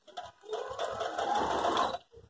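A Brother DS1300 automatic sewing machine stitching, a close whirring mechanical run of about a second and a half with brief clicks at start and finish.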